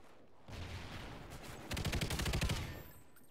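Light machine gun firing in Call of Duty: Ghosts multiplayer, a sustained burst of rapid, evenly spaced shots that swells and fades over a couple of seconds.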